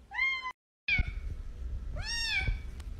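A pet cat gives drawn-out meows, one early and another near the end, loud and close to the microphone, with small rustling noises between calls.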